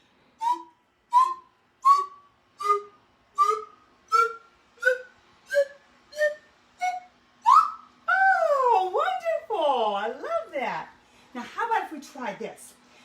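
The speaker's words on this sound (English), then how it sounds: "we're going to use our whistle to make some low sounds instead of some high sounds" A whistle plays a slow series of separate short toots, each a step higher in pitch, then slides up and down in wavering glides, close and clear in a children's music session.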